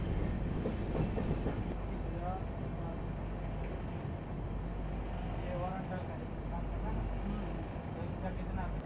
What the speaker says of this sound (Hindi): चलिए फिलहाल अपनी ट्रेन जो है वो पहुंच रही है देवास जंक्शन रेलवे स्टेशन।